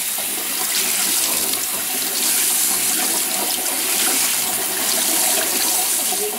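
Running water rinses sprouted oat seeds held in a sieve, a loud continuous splashing flow that fills the whole stretch without any voices.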